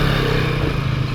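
A scooter engine drones steadily, loud and close, while riding toward Tra Vinh in Vietnam after crossing the Mekong, with a constant low hum and no talk.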